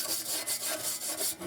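A brass brush scrubs dirt off an old 1941 Dietz Little Wizard lantern in rapid back-and-forth strokes, a close, rhythmic rasping with no voices.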